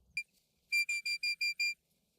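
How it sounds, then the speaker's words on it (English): Sheepdog walk-up whistle blown during live herding work: one short chirp, then six sharp, evenly spaced high whistle blasts in a quick rhythm, loud and clear against a quiet field. "There's my walk-up whistle."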